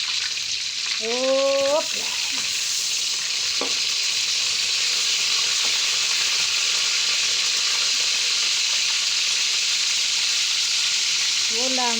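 Fish frying in a pan gives a loud, constant sizzle and hiss that runs the whole time, with a brief voice exclaiming near the start and again at the end.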